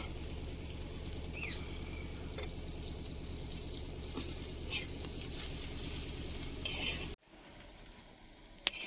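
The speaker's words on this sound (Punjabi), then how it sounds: "ਲਸਣ ਚੰਗੀ ਤਰ੍ਹਾਂ ਭੁੱਜ ਜਾਊਗਾ ਨਾਲੇ ਮਿਰਚ ਨੂੰ ਤੜਕਾ ਹੋ ਜਾਊਗਾ" Garlic and red chilli fry in ghee for a chutney, giving a loud, steady, close sizzle with faint stirring that runs for about seven seconds before cutting to a much quieter background.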